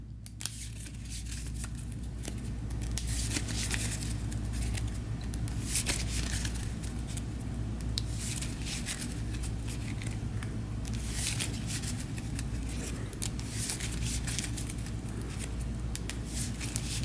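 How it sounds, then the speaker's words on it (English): A tarot deck is shuffled by hand up close, giving a long, continuous papery riffling and rustling that holds at an even level, with no talking. "we're going to give this a shuffle and go through the tarot reading"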